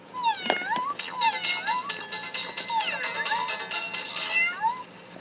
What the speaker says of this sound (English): So it meows.